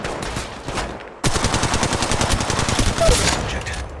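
Rapid automatic gunfire in the mobile battle royale shooter Apex Legends Mobile: a steady, loud stream of shots that kicks in sharply after a quieter stretch of fire, with no talking.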